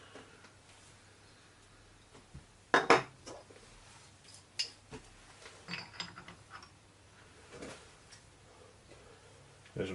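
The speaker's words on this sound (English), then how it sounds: "First put the lid on." A metal lid being fitted onto a Myford 50:1 reduction box in a workshop: scattered light metallic clinks and rattles, one sharper clatter early on, then softer taps and scrapes against a quiet background.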